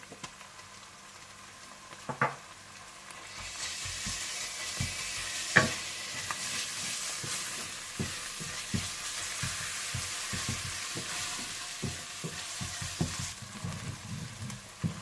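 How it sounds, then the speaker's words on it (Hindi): Ginger garlic paste frying in a hot pan with loud, continuous sizzling, rising partway through, with frequent scraping and tapping of a spoon as the paste is stirred. "जब प्याज इस तरह से भुन जाए तो आप इसमें अदरक लहसुन डालकर भून लीजिए।"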